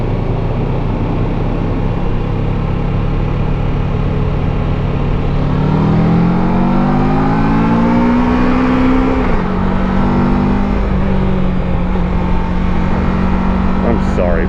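A motorcycle creeps along slowly in first gear during a group ride, its engine droning steadily and rising a little in pitch, under constant buffeting wind noise.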